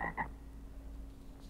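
Two quick frog croaks near the start, loud and close, then fading into a low steady hum of pond background.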